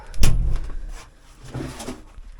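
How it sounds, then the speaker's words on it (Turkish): A door shuts with a single solid thud near the start, followed by quieter shuffling and movement in a dusty farm building. "Şu kapıyı kapatalım."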